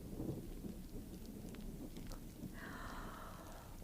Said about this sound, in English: sounds like a storm blowing up outside